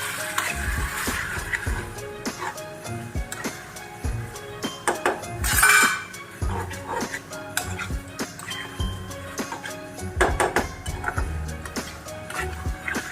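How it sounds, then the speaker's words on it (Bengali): Spoon clinks and scrapes steadily against a bowl while batter is mixed with arrowroot and water for chilli chicken, with irregular taps and one louder scraping burst, close and fairly quiet. "ভালো করে মিক্স করে নেব।"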